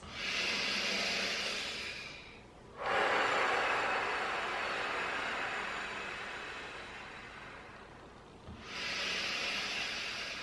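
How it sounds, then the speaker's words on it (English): Slow, deep breaths drawn in and let out during a guided mindfulness exercise, each long airy hiss lasting several seconds with a brief pause between, close and alone. "Breathe in, inner space, breathe out, blowing away whatever is on your mind"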